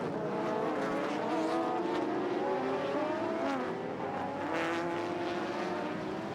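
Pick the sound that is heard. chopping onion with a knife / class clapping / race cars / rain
race cars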